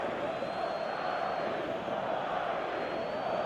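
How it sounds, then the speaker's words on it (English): Stadium matchday crowd in the football video game eFootball, a Barcelona versus Real Madrid clash: a steady, dense roar of many voices with no clear peaks, continuous throughout. "the matchday noise at this place is truly special"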